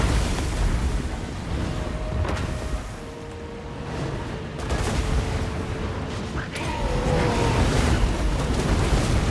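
Artillery fires in the Total War Warhammer 2 battle, several booming shots landing over a dense, continuous din of fighting, with no voice over the top.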